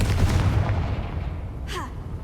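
A Confringo blasting spell bursts in Hogwarts Legacy, a dense booming blast that decays into rumbling debris, followed by a brief bright magical whoosh near the end.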